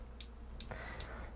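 Elektron Analog Rytm MkII drum machine playing three programmed hi-hat-like hits at an even pace, short bright ticks over a low background hum, quiet and alone.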